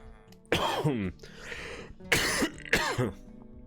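Several harsh coughs and a throat clear from one person close to the microphone, three loud bursts spaced over a few seconds with quiet gaps between.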